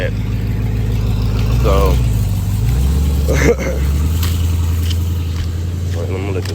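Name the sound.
car passing by on the street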